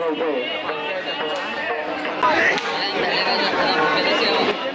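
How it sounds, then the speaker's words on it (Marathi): Dense crowd of pilgrims at the Kunkeshwar temple fair, many voices chattering and calling at once in a loud, close, continuous babble. "गर्दी आता हळूहळू वाढते"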